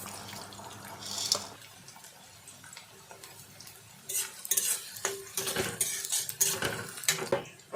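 Onions for veg chow mein are stirred in a pan, with a spoon scraping and clinking against the metal in irregular bursts over a faint frying hiss.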